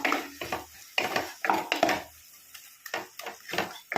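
Stirring gooseberry paste into a cooking pot: a spoon clatters and scrapes against the metal pot in short, uneven bursts with brief pauses between them.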